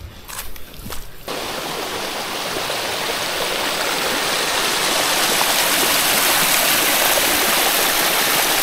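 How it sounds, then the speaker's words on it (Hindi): A waterfall at Palasgaon near Mangaon, a hidden five-layer falls, roars steadily and loud at close range with a flowing stream below it. Brief footsteps and rustling come at the very start, then the water's broadband rush carries on alone. "देख सकते हो ये रहा वाटरफॉल"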